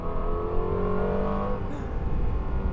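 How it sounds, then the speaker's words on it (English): A Lexus LFA's V10 engine accelerates on a road drive, heard from inside the car as a dense, continuous roar that climbs slightly in pitch, with no talking. "This might actually be the best sounding car I've ever driven."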